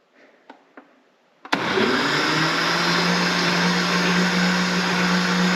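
A few soft clicks, then a blender kicks on and whirs loudly and steadily as it churns cream into homemade butter, a continuous close motor drone with a low sloshing hum underneath.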